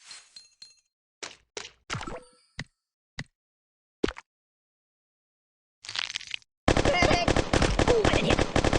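Scattered gunshot and impact sounds come from the Kick The Buddy mobile game, with a big gun firing a rapid, loud burst toward the end after several sparse single hits.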